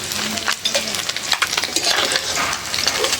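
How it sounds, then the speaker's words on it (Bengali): Small fish, puti among them, frying in a pan with a steady loud sizzle and crackle throughout, broken by a few sharp stirring scrapes and clinks. "ছোটো মাছ তো হালকা করে ভাজতে গেল"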